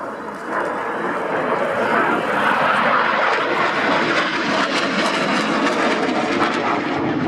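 A T-45C Goshawk jet trainer flies past at an air day, its engine a loud, steady roar with broadband rush that holds strongly throughout.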